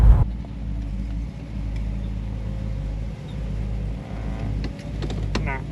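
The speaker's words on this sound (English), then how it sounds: "this thing just purrs along the road" A Holden HK panel van with a tunnel ram engine cruises along the road, its engine a steady, smooth low rumble with gentle swells, heard from inside the car.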